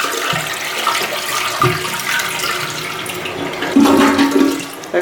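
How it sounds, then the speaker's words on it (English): A Kohler toilet at a Bahamas resort flushes loudly and close, a steady rushing wash of water that swells near the end and continues alone without talk. "Kohler. The golden flusher."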